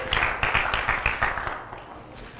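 A church congregation claps together in a quick, regular rhythm of sharp hand claps that fades a little toward the end, heard in a large room.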